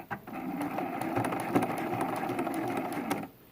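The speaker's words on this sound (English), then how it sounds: "Lower my needle, lower the presser foot, do a few stitches, stop, do some back stitches" A sewing machine stitches a quilted throw pillow with a zipper closure along a half-inch seam: a steady, fast, close whirring run of about three seconds that stops abruptly.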